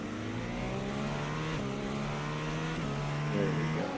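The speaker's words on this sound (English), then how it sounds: "I think you can have a little listen here for that engine kicking up as well." A race car engine at Portimao circuit hums steadily with shifting pitch, rising and dropping as it revs during a race, heard continuously without any voices.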